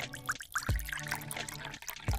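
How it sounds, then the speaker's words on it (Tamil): Hot boiled milk pours steadily into a cup of coffee and cream for a homemade Nescafe cappuccino, a continuous close liquid stream with gurgling and splashing throughout. "நல்லா காய்ச்சின சூடான பால் இதில் ஆட் பண்ணிக்கோங்க"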